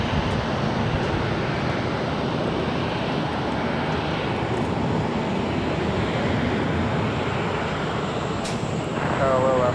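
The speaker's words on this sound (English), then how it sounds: "That's an Asiana cargo 747 crossing over us." An Asiana cargo Boeing 747 passes overhead near LAX, a broad, loud, steady jet roar that holds throughout with little change in level.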